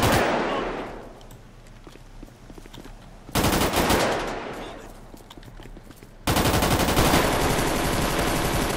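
Loud bursts of rapid automatic AK gunfire from the game GTA come in waves, with shots echoing and fading between volleys before a sustained barrage resumes.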